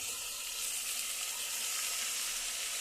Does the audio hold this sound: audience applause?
no